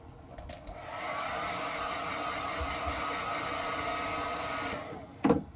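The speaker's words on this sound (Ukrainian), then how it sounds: "Беремо фен." A hair dryer blows with a steady whooshing roar for several seconds, then cuts off, followed by a brief knock.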